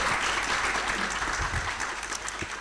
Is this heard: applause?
yes